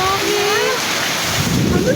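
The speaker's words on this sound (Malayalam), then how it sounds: "ഞങ്ങളുടെ അവിടെ കാറ്റും മഴ" Gusting wind roars against the microphone over a steady wash of falling rain, with a voice talking faintly through the noise.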